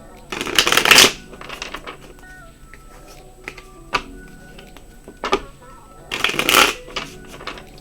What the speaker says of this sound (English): I'll give it a shuffle.